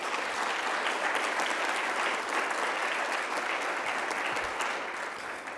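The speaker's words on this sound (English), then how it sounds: "please join me one more time in giving a round of applause to all of our student honorees tonight" An audience at a school board business meeting applauds student honorees, a steady dense round of clapping from a room of people that holds at even loudness and eases slightly near the end.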